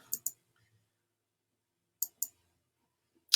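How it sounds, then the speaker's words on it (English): A computer mouse clicks in quick pairs to select an option, crisp and close: one double click at the start, another about two seconds later, and a final click at the end, with near silence between. "And I'm going to click select"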